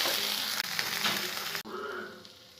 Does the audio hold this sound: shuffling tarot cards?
no